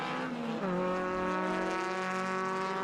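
A race car in a Victorian Super Tin Tops race at Winton Motor Raceway powers out of turn 8, its engine note steady and droning with a pitch shift as it accelerates, moderately distant.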